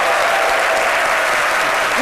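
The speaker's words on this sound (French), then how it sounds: "On les applaudit très fort, s'il vous plaît" Audience applause for performers at a Côte d'Ivoire arts market anniversary show, a dense steady wash of many hands clapping, loud and continuous throughout with faint voices mixed in.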